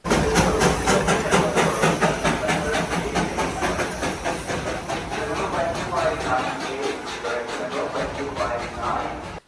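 The Darjeeling toy train's steam engine puffs and hisses continuously at close range, a steady rhythmic chuffing of steam on the Himalayan railway, with a voice faintly present beneath it.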